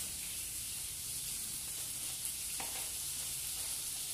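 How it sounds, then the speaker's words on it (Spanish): Longaniza sausage fries in a pan with a steady, close, even sizzle and crackle that runs throughout, with a faint clink partway through. "todo esto lo hacemos mientras se fríe nuestra longaniza"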